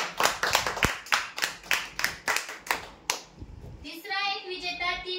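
A crowd at a prize draw claps for a winner in a strong, rhythmic burst of about a dozen sharp, closely spaced claps. The clapping then gives way to a brief, higher-pitched voice-like sound.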